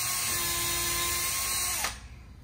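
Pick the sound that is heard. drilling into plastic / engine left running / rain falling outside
drilling into plastic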